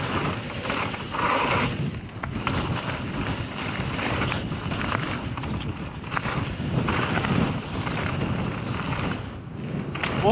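Strong wind buffets the microphone in heavy, roaring gusts that rise and fall, loud and continuous throughout, on mountain bike trails at Black Mountains Cycle Centre.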